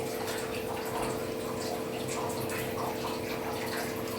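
Mustard seeds sizzle and crackle in hot oil, a steady frying hiss dotted with small pops, fairly quiet and without talk.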